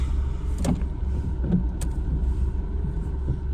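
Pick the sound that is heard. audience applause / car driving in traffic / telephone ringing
car driving in traffic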